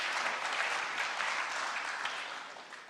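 Steady, dense applause from an audience at a hackathon closing ceremony and demo session, a continuous wash of many hands clapping at even loudness before easing slightly toward the end.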